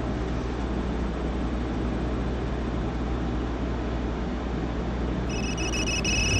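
A phone rings in the video game Resident Evil 8, a steady electronic tone that enters near the end over a constant low hum and background noise.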